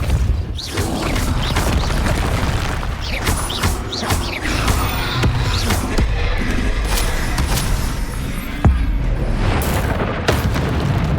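Hogwarts Legacy Depulso spell effect, a loud booming magical blast with mechanical clatter, dense and continuous amid ongoing game combat sounds over about eleven seconds.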